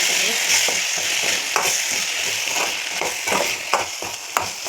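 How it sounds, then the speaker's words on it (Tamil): Grated coconut is stirred in a sizzling frying pan, with steady frying hiss and intermittent scraping strokes of a spoon. "தேங்காயை அப்படியே போட்டு ஒரு கிளறி விட்டுலாம்."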